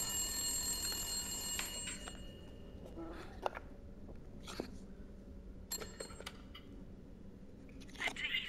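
A telephone rings in the video game Resident Evil Village: bright, shrill bursts at the start and again midway, separated by quiet stretches with faint scattered clicks and thuds.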